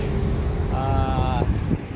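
Steady traffic rumble from US 191 near Moab, Utah, heard close by as a continuous roar, with a passing vehicle's engine tone rising briefly in the middle.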